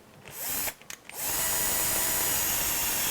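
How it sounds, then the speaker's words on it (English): A power drill drives screws into the front portion of an HPI Baja 5SC SS chassis to secure the front bulkhead. It whirs in a short burst, pauses briefly with a couple of blips, then runs loudly and steadily. "we're going to insert the screws into the 2 back holes on the front portion of the chassis"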